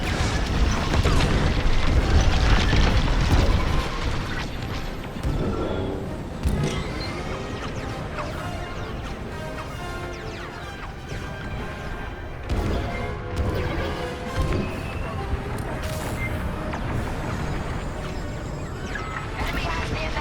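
Space-battle explosions as a shield generator is destroyed in Star Wars Squadrons: heavy booms and crashes, loudest early on, then rumbling blasts and mechanical clatter under voices talking over comms.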